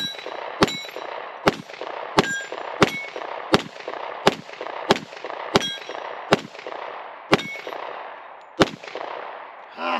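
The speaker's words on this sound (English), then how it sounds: "So let's put some more rounds down range here." Pistol shots from a ported 10mm S&W Performance Center M&P 2.0 with a 5.6-inch barrel at an outdoor range, about a dozen loud sharp reports at a steady pace, each paired with the clang of a swinging 8-inch portable steel target.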